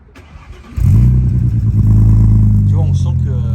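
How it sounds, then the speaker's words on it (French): An engine cranks and catches, settling into a loud, steady low idle with a slight rumble close by, while people talk faintly over it. "Je te laisse me la démarrer, après on va monter, on va y aller."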